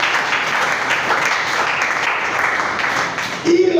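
A church congregation applauds for the Lord during an evangelist's sermon, a dense sustained wash of clapping from many hands in a large room, ending as a voice begins to speak.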